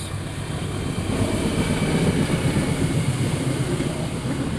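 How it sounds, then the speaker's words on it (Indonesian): Train passing close by, a loud continuous rumble and rolling clatter that holds steady and swells slightly in the middle, with no voices over it. "ya kereta. Keras juga suaranya itu."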